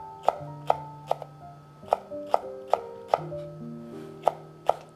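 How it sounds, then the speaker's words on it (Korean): A knife slices chili pepper on a cutting board for a Korean side dish, with about ten crisp, close chops in a steady, slightly uneven rhythm over soft background music. "고추 요것도 송송송송 썰어 주세요."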